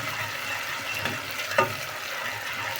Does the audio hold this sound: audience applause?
no